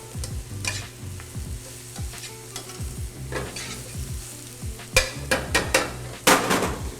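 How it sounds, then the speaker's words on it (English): Beet greens get stirred into onion and garlic sizzling in a pan, giving close continuous frying hiss with repeated spoon scrapes and clacks that grow louder and sharper toward the end. "The beet leaves only need about a minute just stirring into the onion and the garlic"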